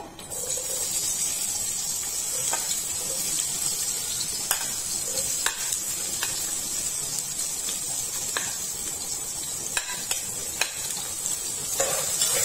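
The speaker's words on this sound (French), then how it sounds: "Ensuite, je verse les oignons." Sliced onions sizzle and fry steadily in a hot pan while cooking for a tomato beef kidney roast, a constant close hiss broken by scattered scraping clicks from stirring.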